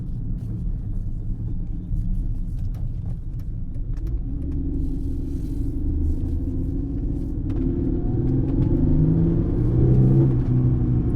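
Mercedes car pulling away on a test drive after a hesitation and performance fault was fixed, a low engine rumble from inside the cabin that rises steadily as the car accelerates, with no talking.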